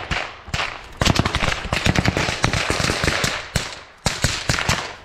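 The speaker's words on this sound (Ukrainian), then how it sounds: "Отстрілюється!" Combat gunfire in the fighting around Bakhmut crackles in rapid, irregular bursts of sharp, close shots, with brief gaps between volleys.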